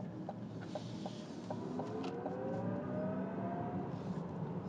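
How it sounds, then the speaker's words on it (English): A 2024 Chevy Blazer EV accelerating hard gives a faint, rising electric whine over a steady low road rumble inside the cabin, with no voices. "let me go hard on the throttle here"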